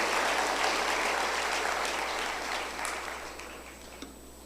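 Worshippers at a church service applaud for Christ, a wash of clapping that starts full and gradually tapers off over a few seconds, with a low steady hum beneath.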